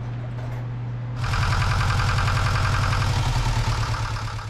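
Sailboat diesel engine running steadily after fitting a new belt-driven water pump above the flywheel, starting up about a second in and holding a loud, even, throbbing idle alone.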